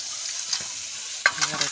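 Water hits frying spices (cumin, chili and mustard powder) in a hot pan and sets off a brief bright sizzle that swells near the end of the short stretch, heard up close over a steady background hiss.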